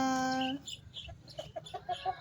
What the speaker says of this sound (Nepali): कुखुराको भाले कोया कोया।